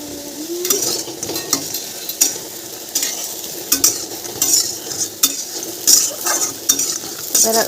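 Fritters (bora) frying in a pan with steady sizzling, joined by repeated scraping and clinking strokes as they are stirred and turned, close and moderately loud without any talk.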